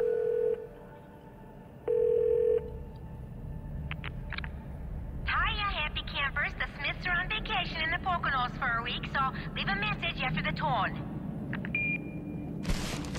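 A phone number being dialed in the video game The Darkness: a dial tone and a couple of beeps, then a quick run of warbling, chirping tones lasting several seconds before a short final beep.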